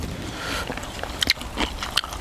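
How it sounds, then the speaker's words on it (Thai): Chewing on offal from a Thai bitter organ-meat soup, soft wet bites with a few crisp crunchy clicks, close and fairly quiet over a low background hum, with no talk. "เคี้ยวแล้วเหมือนมีเลือดมีอะไรข้างใน"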